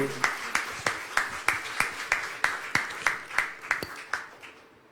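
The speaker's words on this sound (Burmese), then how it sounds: "လက်ခုပ်တီးပြီးတော့ကျေးဇူးကြပါစို့" Wedding guests clap in a steady, even rhythm, about fourteen sharp claps close to the microphone before the sound fades out at the end.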